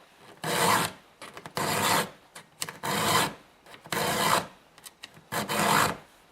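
A hand file sharpens the teeth of a chainsaw chain in five distinct rasping strokes, each a harsh scraping push followed by a short, quieter pause, heard close and alone.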